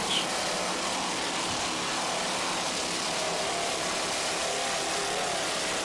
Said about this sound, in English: Just listen to those Stotler racing engines.